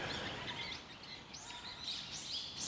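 Birds chirp outdoors on a walk between Setagaya and Suginami in Japan, with several quick, bright calls scattered over a soft ambient background, fairly faint and distant.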